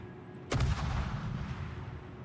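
Naval ship guns firing in the video game World of Warships: one sharp, loud boom, followed by a long rumbling roll of echo that slowly fades over about two seconds, with no talking.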